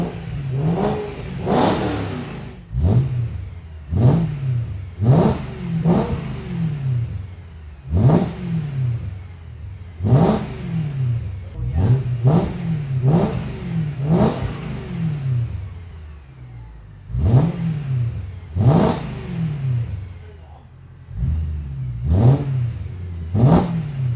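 A BMW E92 M3 V8 fitted with a Supersprint race exhaust and custom X-pipe revs repeatedly, with sharp throttle blips that rise and fall back to idle in a loud, close, rhythmic sequence.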